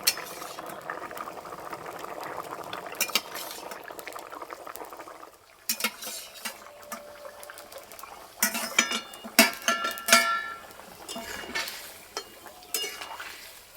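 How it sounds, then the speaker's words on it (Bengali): A pot of fish, potato and ridge gourd curry with fenugreek and fennel bubbles steadily on a village stove, a soft continuous simmer with a few clinks of utensils and stirring noises breaking through. "আর কিছুক্ষণ ফুটে নিলেই হয়ে যাবে।"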